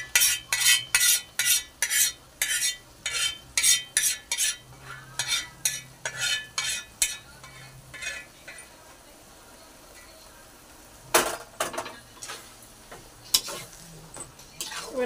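A spoon stirs a spice mixture in oil in a metal pan, scraping and clinking in quick rhythmic bursts, then pausing before a few louder knocks, with faint sizzling beneath.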